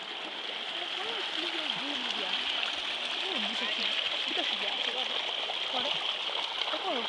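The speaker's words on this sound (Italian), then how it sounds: "Qui l'acqua che scende giù dalla fronte." Glacier meltwater on the Marmolada glacier front flows and splashes steadily in a rushing, gurgling stream, close and continuous; the voices picked up are faint or absent.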